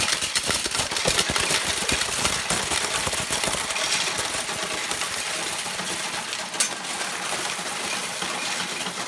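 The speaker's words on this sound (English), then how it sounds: "we open the shutter where the coins go in" Coins pour continuously into an S&T OEM CCM-Sx coin module, a dense, loud metallic clinking and rattling that runs throughout, over a steady mechanical hum.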